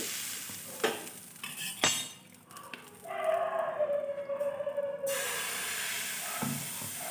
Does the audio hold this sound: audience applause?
no